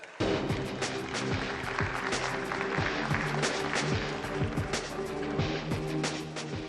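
Audience applause fills a Galatasaray award ceremony hall for the Socios fan engagement prize, a dense, steady wash of clapping with a low musical hum underneath, loud and sustained throughout.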